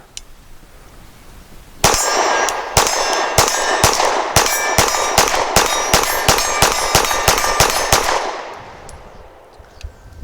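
Rapid 9mm pistol shots from a Gill Arms GPR 9M ring out one after another, about a dozen in quick succession, each paired with a sharp metallic clang from a steel target.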